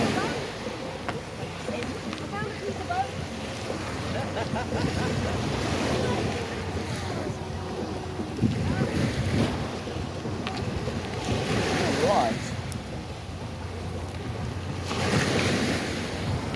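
Surf washes steadily onto a sandbar at Fort Myers Beach, Florida, a continuous broadband rush with gentle swells, mixed with wind noise on the microphone and occasional soft voice sounds.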